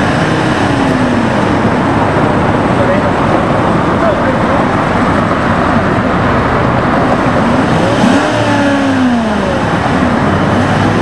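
A troubled car engine revs loudly and continuously with a rough, droning roar and a rising and falling pitch, close by, while voices talk over it.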